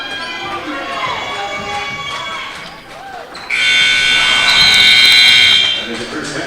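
At a high school boys' basketball game, a loud, steady electronic buzzer sounds for a few seconds over gym noise, squeaking shoes and an announcer talking.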